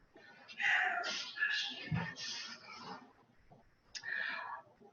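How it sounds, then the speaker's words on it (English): A cat meows repeatedly in drawn-out, whiny calls at a 15th-century-style May Day ball with Italian dances, fairly close but soft, with faint background talk and room noise. "Now I notice the cat without distracting from the dancing kitty."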